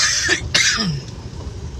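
A person coughs twice in quick succession, close and fairly loud, followed by a short throat-clearing sound and quiet background.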